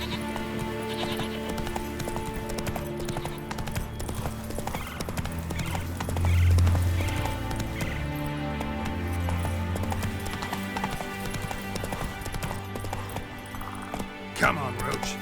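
The horse Roach gallops in The Witcher 3: Wild Hunt, a continuous rhythmic clip-clop of hooves with an occasional whinny, layered under game music and a voice talking.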